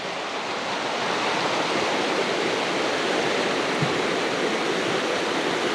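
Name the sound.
salmon creek water flowing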